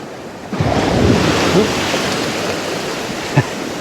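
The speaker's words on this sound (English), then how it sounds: "Thought the wave was going to take us over." North Sea waves crash onto the shore at Rattray Head, a loud, close rush of surf that surges and then hisses on steadily, with wind buffeting the microphone.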